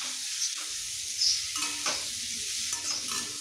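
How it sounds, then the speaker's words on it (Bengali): Amla (Indian gooseberries) being stirred while frying in spices over a low-medium gas flame, with a steady sizzle beneath a few distinct scraping strokes of the spoon against the pan. "এবার আমলকি দিয়ে গ্যাসের ফ্লেম লো টু মিডিয়াম রেখে 2 থেকে 3 মিনিট এটাকে নেড়ে নেব"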